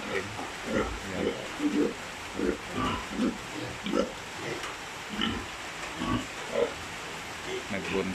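Pigs in a piggery on a rainy day grunt and oink in short, repeated bursts close by, a steady rhythm of snorts over a low background.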